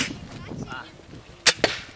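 Two sharp gunshots fired in quick succession at a shooting range during a Cossack youth camp competition, standing out over quiet background chatter and murmur.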